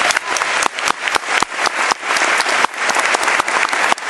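Loud, sustained applause from a legislative mock assembly audience in Albany, dense clapping filling the whole stretch without pause.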